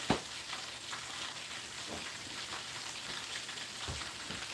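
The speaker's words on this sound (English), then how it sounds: "That's that frying sound" Soft, continuous sizzling of chicken wings and potatoes frying in oil, crackling steadily with occasional louder pops and a faint clink near the start.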